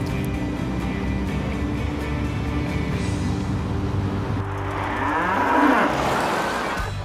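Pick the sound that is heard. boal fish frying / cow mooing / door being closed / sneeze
cow mooing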